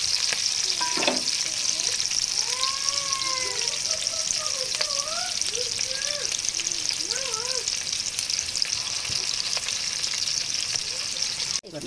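Green chillies frying and sizzling in a pan of oil for chicken biryani, a steady close broadband hiss throughout with occasional stirring, while faint bird-like whistles chirp in the background.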